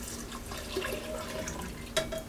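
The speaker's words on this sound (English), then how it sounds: "I have some stock here that I'm going to add to the pan." Four cups of bean stock pour into a cooking pan, giving a steady close liquid splash and trickle for a couple of seconds with a brief louder spurt near the end.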